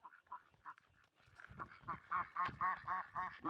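A run of duck quacks, sparse and soft at first, then louder and quicker in a steady rhythm toward the end.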